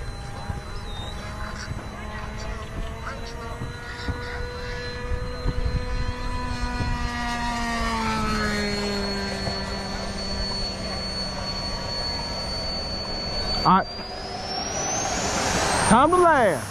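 A Delta 40 model airplane flies overhead with a thin high-pitched motor whine that holds steady, dips, then rises sharply as it passes; people talk nearby.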